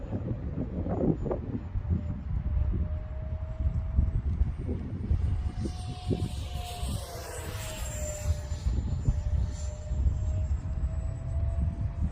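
A Freewing 64mm F-22 RC jet with a 12-blade EDF passes overhead in stiff wind, a thin whine sweeping across the sky, moderately distant, under heavy wind buffeting on the microphone.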